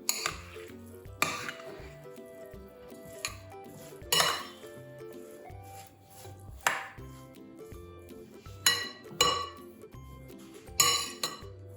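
A spoon clinking and scraping in a bowl as salt is stirred into bulgur, sharp metallic knocks coming in irregular bursts with quiet gaps between them, close and without speech.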